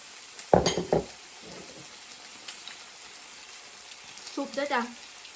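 Pork belly sizzles on a grill, with bright crackling bursts of spattering oil near the start and again near the end, quieter hiss between, and a faint voice briefly audible.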